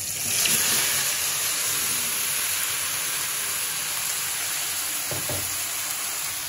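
Vegetables frying in a hot pan with black gram dal for a simple vegetarian curry, a loud, steady, close sizzle with a brief stirring scrape partway through, and no voices.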